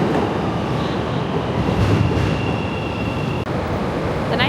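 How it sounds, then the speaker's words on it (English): A Chicago elevated train on the Loop runs steadily with rumbling wheels and rail clatter, loud and close throughout, with faint squeals above and a sharp click near the end. "so I'm taking the train in."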